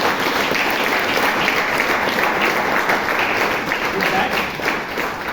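Audience applause rings out in a meeting room as people clap for the speakers at a Toastmasters meeting in Bangalore, a dense steady patter of many hands lasting several seconds, with a voice speaking briefly over it.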